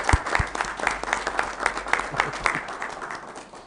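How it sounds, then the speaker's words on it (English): An audience and officials at a county commission meeting give a round of applause: a dense patter of many hands clapping at moderate volume from start to finish, with a faint murmur under it. "So if those in the audience and here on the dais, give Duncan a round of applause"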